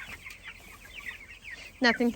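Chickens clucking and calling inside a rebuilt chicken tractor on a warm day, soft scattered clucks at first, then a louder, nearer burst of harmonic squawks toward the end.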